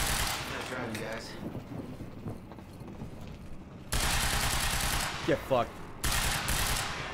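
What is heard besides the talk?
gunfire in video game Quantum Break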